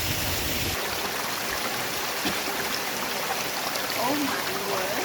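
Stream water pouring at a hidden waterfall, a constant broadband rushing wash that stays close and steady throughout, with a few faint bird-like chirps and no talking.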